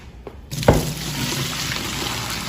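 Boiled water with vinegar poured out of a pot into a kitchen sink: a splashing impact, then a steady hissing, gushing flow that continues loud and close, with no voices.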